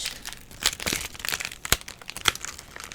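Close, crackling crinkles of vinyl film being pulled and bent during weeding, irregular sharp bursts throughout, no voices.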